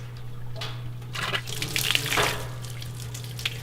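Water poured into a Digesterponics system arrives in a few short splashing gushes that swell and fade over a few seconds, close by, with a low steady hum underneath and no talking.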